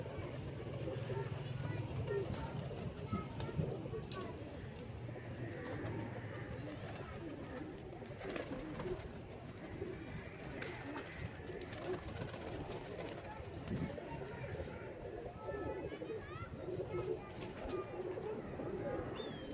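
Pigeons cooing and fluttering close by, a steady low murmur of soft coos under someone talking throughout, with faint rustling and movement as he reaches toward the birds to catch one.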